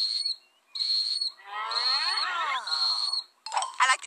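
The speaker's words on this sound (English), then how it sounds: "My teeth whistle when I breathe." A cartoon character's teeth whistle while breathing: shrill, steady whistle tones come in short bursts separated by pauses, then a longer wavering stretch with a swooping, breathy texture beneath it, ending in a rougher burst.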